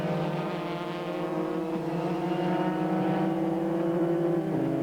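Formula 3 race cars passing at a circuit, a continuous engine drone with steady harmonic whine, fairly distant and sustained with a slight rise toward the end, no talk over it.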